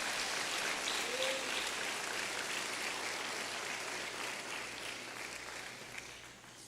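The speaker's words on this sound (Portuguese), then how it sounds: "aproveita e dá um aplauso para Jesus" A church congregation claps in sustained, dense applause that fills the room evenly and slowly tapers toward the end.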